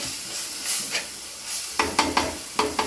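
Tomatoes with chilli powder and salt sizzle in a hot pan while being sautéed, a steady close frying hiss broken by several sharp scraping stirs of the spoon toward the end.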